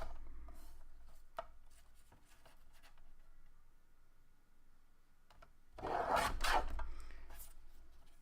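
Scissors trim a paper sentiment for a weathered-paper craft project, giving a few faint snips early and then a louder burst of cutting and rustling near the end, with no one talking.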